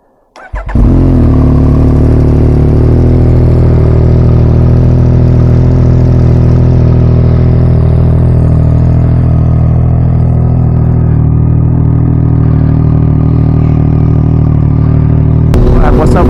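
Yamaha MT-09 motorcycle cold start: a brief cranking catch, then the engine fires and settles into a loud, steady, deep idle held close by for the remaining fifteen seconds.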